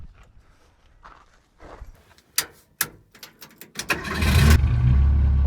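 A Ford Pinto rat rod with a newly built exhaust and muffler cranks and fires up near the end, following footsteps and a few sharp clunks, then settles into a loud, steady rumbling idle.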